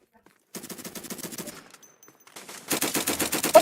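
Rapid automatic gunfire in a Roblox shooting game comes in dense, loud bursts, first a sustained volley, then a brief lull with a faint tone, then an even louder continuous stream of shots.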